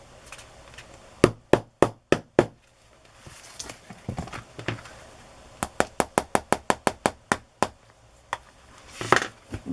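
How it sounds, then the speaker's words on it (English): A hammer pounds a handmade book cover closed, landing in quick bursts of sharp, close strikes: four blows, a pause with faint rustling, then a longer run of about ten rapid hits and a final few knocks. "So I'm just going to pound this closed."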